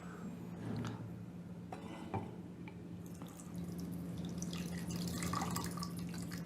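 Liquid drains off meat cured with sheep tail fat, a faint trickle and scattered drips splashing into a container, with a low steady hum in the background and no talk.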